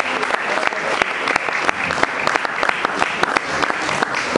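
A church congregation applauds and cheers for Jesus during a service, with dense continuous clapping and scattered shouts throughout, loud and close.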